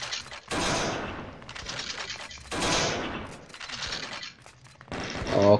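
Bursts of rapid gunfire in the Doom-engine game Zandronum's Z-Horde survival mode, loud volleys separated by short lulls, ending in another sharp burst.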